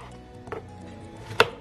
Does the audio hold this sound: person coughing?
no